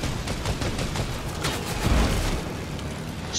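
Gunfire rattles through a video game battle in a Viking Valhalla area, a dense continuous volley of rapid shots with a heavier boom midway, loud and steady throughout.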